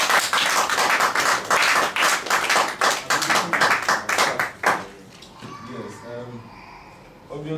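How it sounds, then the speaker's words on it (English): An audience applauds Dr. Kambon, brisk clapping for several seconds that stops abruptly, followed by a voice speaking. "I wish we applaud Dr. Kambon for all that he has taken us through today"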